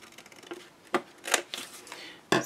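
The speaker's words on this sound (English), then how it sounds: "So you just cut it until you hit the corner, and then you cut it at an angle." Scissors snipping paper at an angle while building an Alice in Wonderland explosion box album, giving a few crisp, close cutting sounds spaced irregularly amid light paper rustling and handling noise.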